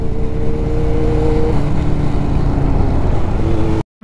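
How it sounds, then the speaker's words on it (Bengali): A Kawasaki Z900 motorcycle runs with a loud, rough, continuous engine rumble that carries a steady tonal hum, which cuts out abruptly just before the end. "Z900-এর নর্মাল নয়েজটাও এতটা রাফ যে সেটা একটা মানে হেভি লেভেলের অ্যাম্বিয়েন্স ক্রিয়েট করছে"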